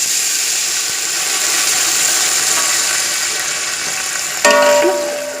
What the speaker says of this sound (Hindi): अब हम इसको तड़का लगाएंगे।